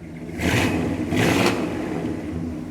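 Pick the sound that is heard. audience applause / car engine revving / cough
car engine revving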